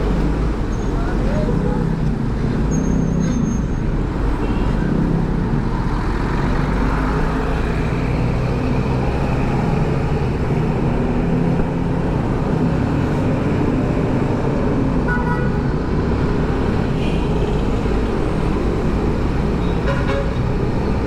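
Steady roadway traffic beneath an LRT line in a busy Philippine street, a dense continuous rumble of cars, buses and trucks with an occasional horn toot, running throughout without pause.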